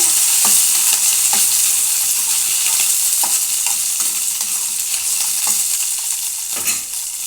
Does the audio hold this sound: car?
no